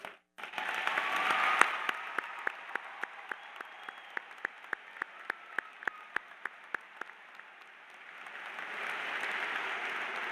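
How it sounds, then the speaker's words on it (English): A high school graduation crowd swells into broad applause for the teachers, fading to a thinner spatter of individual sharp claps ringing out one by one in a large hall, then building back into a full wash. "so we can give you a round of applause."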